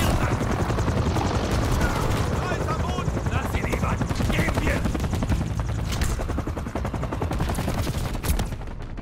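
Helicopter rotor thrum with bursts of rapid gunfire in the Call of Duty Modern Warfare 3 campaign, a loud dense battle mix throughout with voices talking over it.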